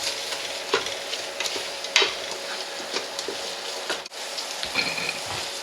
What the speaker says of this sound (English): And just stir that in the mixture there.